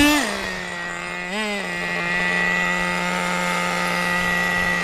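A 1985 Kyosho Integra RC van's electric motor whines close up with a steady high-pitched tone. The pitch drops at the start, briefly rises and falls again, then holds even and loud.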